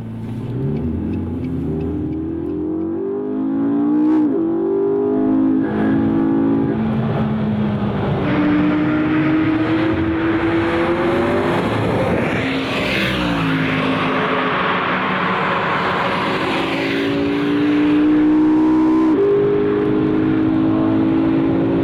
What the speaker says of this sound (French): Et c'est parti, à 300 km/h sur le circuit du Mans.